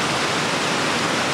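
Rushing water at the Storfallsforsen rapids on a river makes a dense, loud, unbroken roar of heavy foaming flow, close by and with no voices.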